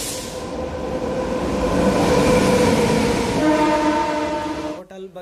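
A train at Muddanur railway station in South India passes close and loud, its steady rolling roar joined by a sustained horn-like tone before it cuts off abruptly near the end.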